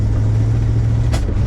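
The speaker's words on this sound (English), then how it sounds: "Still popping back through the carburetor." Engine of a 1977 Dodge Adventurer pickup drones steadily at close range, with a single short pop back through the carburetor late in the run, likely from a lean condition.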